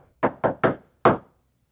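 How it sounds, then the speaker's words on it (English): Four sharp knocks on a solid surface in a disused hospital operating room during a paranormal knocking game, three in quick succession and a fourth after a short pause, close and loud with silence around them. "I'm going to play a knocking game."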